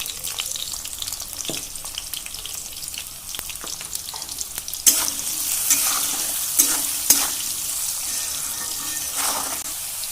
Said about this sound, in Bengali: এখন তাহলে আমরা আমাদের যে আলুর টুকরাগুলো রেখেছিলাম সেগুলোকে এখন ভেজে নেব।